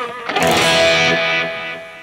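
A Roland RE-150 Space Echo tape echo set to mode 2 turns a loud, bright tone into a smeared wash of repeats that slowly fades out over about two seconds.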